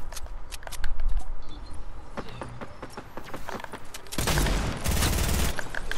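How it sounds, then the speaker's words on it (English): Video game gunfire in a multiplayer shooter match: dense bursts of rapid shots and clattering impacts, loud and close, with the heaviest volleys near the end. "Who's shooting?"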